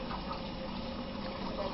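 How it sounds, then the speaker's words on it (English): Water poured over a newborn baby's head during a bath makes a steady, close splashing stream that runs unbroken for a couple of seconds. "So I'm just going to pour the water over her head."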